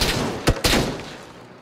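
Single-fire gunshots in PUBG: two sharp, close reports about a fifth of a second apart, the second trailing into a decaying echo, with no talking.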